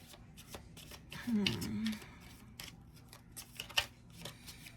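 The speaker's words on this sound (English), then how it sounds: "Let me shuffle the cards a little more." Tarot cards are shuffled in a soft riffling burst, then tapped and shuffled again briefly; quiet, close, with faint room noise.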